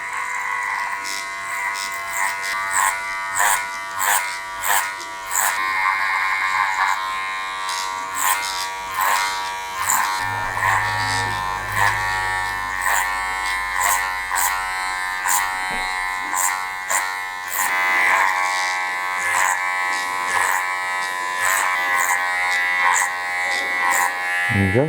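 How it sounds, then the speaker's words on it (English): An electric hair clipper works clipper-over-comb on a taper haircut. It keeps up a steady buzzing hum, broken by rhythmic snips and comb strokes as it passes through the hair, close up and continuous for about twenty-five seconds. "So I'm going to work on my clipper over comb now."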